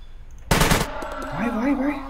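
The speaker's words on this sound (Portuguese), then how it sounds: "Eu atiro no drone." In the video game SCUM, a short, fast burst of gunfire at a drone crackles once, then fades into a rising electronic whine and faint voices.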